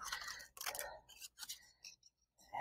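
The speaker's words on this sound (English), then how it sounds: "I could cut just a swirly piece like this" Scissors snipping a freeform swirly shape out of paper for a collage, several close, crisp cutting strokes in short bursts separated by brief pauses.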